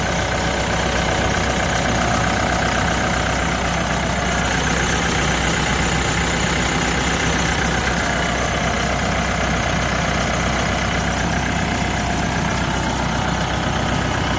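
A TYM 654 tractor's turbocharged 2.9-liter Deutz four-cylinder diesel runs at a steady idle, a loud, even drone with a constant low rumble and whine that never changes throughout.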